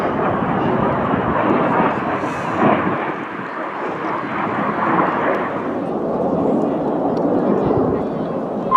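Red Arrows aerobatic display jet Red 8 roaring past at the 2018 Cosford air show, a loud sustained rumbling engine wash that holds steady and eases slightly toward the end, with a commentator talking over it.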